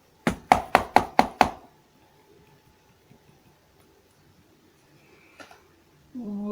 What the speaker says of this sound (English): Ant plodded on, and at last he came to the king's palace and knocked on the door.